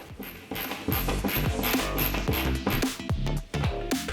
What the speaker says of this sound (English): For these types of anchors, you push in while screwing it in, and then the anchor fastens itself into the drywall.